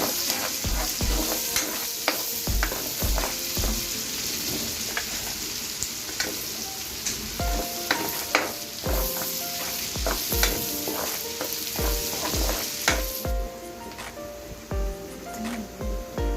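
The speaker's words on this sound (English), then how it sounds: "We have the onions. Let's cook this one for a few" Onions frying in a pan for pork dinuguan, a constant close sizzle broken by repeated clacking stirs and scrapes of a utensil against the pan.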